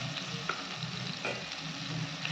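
Chili paste stirred into a frying pan for a prawn malai curry over medium-low flame, a constant sizzle with a few light scrapes of the spatula, close and unvoiced.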